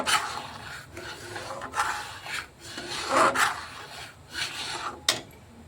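A spoon stirs milk powder into milk in a pot for mishti doi, giving soft irregular scraping and rubbing strokes, close and fairly quiet, with a sharper clink near the end.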